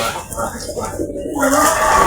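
Pigeons in a rural village loft give soft, low cooing calls close by over about two seconds, mixed with faint background speech and ambient rustle.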